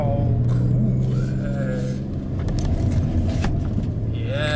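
A BMW 840d xDrive diesel engine rumbles steadily up close, with brief tonal whines and shifting mechanical noise over the low drone.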